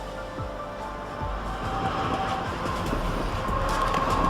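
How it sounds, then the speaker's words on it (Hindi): A fast train rolls along the rails with a steady rumble, rhythmic wheel clatter and a brief metallic squeal, heard up close and continuous, growing slightly louder toward the end, with no voices. "आपने रेलगाड़ी की तेज रफ्तारी का अंदाजा तो लगा लिया कि गाड़ी की तेज रफ्तार होती है रेल की"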